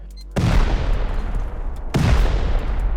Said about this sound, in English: It takes, call it 2 C4s and a handful of explosive rounds to finish off a vending machine.